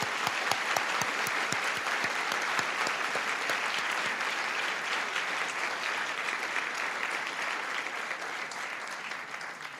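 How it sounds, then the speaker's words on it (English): An audience at a district attorney's swearing-in ceremony applauds elected officials, with sustained, dense clapping that stays loud and steady before tapering slightly near the end. "A round of applause for our elected officials."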